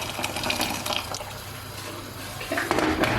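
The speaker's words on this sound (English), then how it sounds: "now put the buckwheat on with the rest of the fluid over here" Water is poured into a cooking pot for boiling buckwheat in a home kitchen, a continuous splashing, gurgling flow up close with a few clinks and a louder surge near the end.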